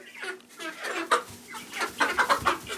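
Young backyard chickens cluck and make short, squawky adult-sounding calls in a rapid series of close, moderately loud bursts.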